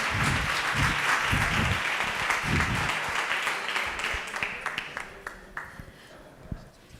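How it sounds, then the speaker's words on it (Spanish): Steady audience applause at a lecture welcomes a speaker, loud at first, then thinning into scattered individual claps that trail off near the end. "un aplauso fuerte"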